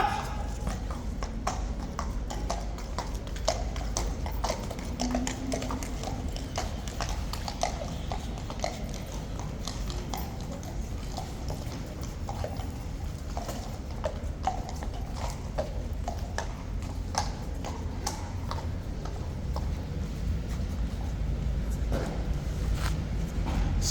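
Horses of the Horse Guards walk close by, their hooves clip-clopping in an irregular but steady patter on hard ground amid crowd murmur and occasional voices throughout.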